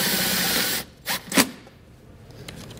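A drill driving self-tapping screws into the firewall of a 2013 Toyota truck: a steady high whine runs for almost a second, then stops, followed by two short bursts, close and moderately loud.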